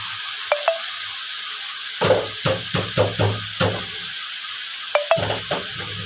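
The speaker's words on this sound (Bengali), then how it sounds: "আমি একটু আদা রসুন বাটাটা দিয়ে দিয়েছি এবার এর মধ্যে মাশরুমটা আমি দিয়ে দিলাম" Mushrooms sizzle in a hot pan with ginger-garlic paste while a utensil stirs them, giving a steady frying hiss broken by a series of sharp scraping and knocking strokes against the pan, close and loud.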